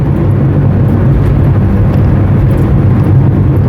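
A 1980 Volkswagen Scirocco GLS MK1 drives steadily, its engine and road noise forming a loud, continuous low droning rumble with no talking.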